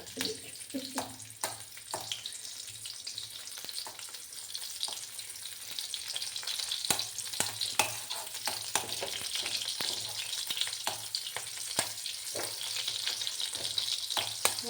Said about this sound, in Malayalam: ഇഞ്ചി പച്ചമുളക് പച്ചമുളക് ഇഞ്ചി മുറിച്ചിട്ടത് അതിനകത്തേക്ക് ഇടുക